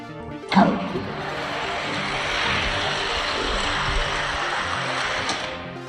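Hot Wheels die-cast toy cars, a BMW among them, racing down a plastic track: a sharp knock at the start, then a continuous rolling rumble and whoosh that holds steady until the finish.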